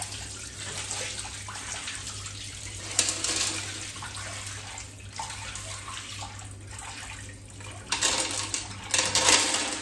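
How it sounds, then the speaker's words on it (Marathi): Water pours out of a glass fish tank in a continuous splashing rush, fairly close, swelling into louder gushes near the end, with no speech over it. "ते पाणी आपल्याला सरळ बोटिंगला ओतून द्यायचं"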